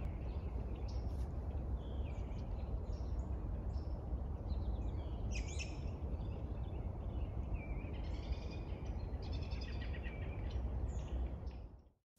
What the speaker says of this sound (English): We're hearing a lot more birds and seeing a lot more birds.